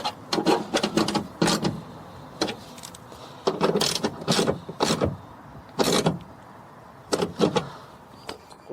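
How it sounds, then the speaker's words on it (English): Hand ratchet tightening a bolt while installing speakers in a Nissan Juke, heard as repeated bursts of quick metallic clicking strokes with short pauses between them, fairly close and with no talk. "let's take our ratchet again. Tighten it."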